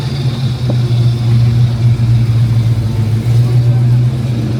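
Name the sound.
Ford T-top coupe engine revving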